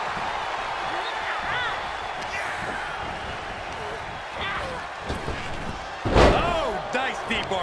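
A German suplex body slam in the WWE 2K23 wrestling game, with a heavy thud against the mat midway through, while commentary and crowd noise run underneath.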